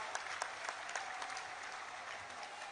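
Sustained crowd applause from a gathered audience at a political rally held at a religious fair, dense overlapping clapping at an even level with occasional sharper claps, heard alone without speech.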